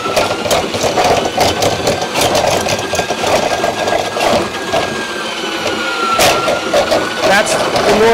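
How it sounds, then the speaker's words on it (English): A Ridgid K-3800 drain cleaning machine with a standard drum runs under stress while pushing cable through a drain, giving a loud, steady motor drone with scraping and rattling throughout, no pauses. "That's the noise that the machine will make when it's under stress."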